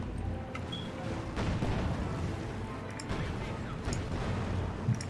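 Artillery explosions from the video game Company of Heroes 2 rumble as low, muffled booms and scattered cracks under a constant battle din, fairly quiet and distant.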